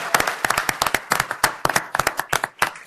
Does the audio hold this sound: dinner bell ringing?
no